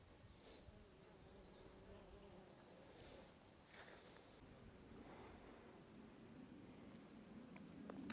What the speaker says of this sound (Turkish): Üzerinde bir sürü arılar çalışıyor.